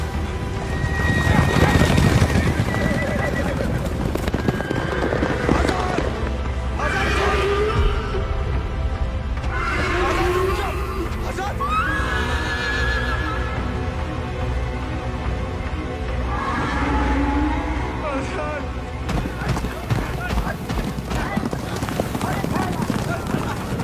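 A horse neighs and whinnies repeatedly, loud and close, with clip-clopping hooves and shouting voices in a tense film scene.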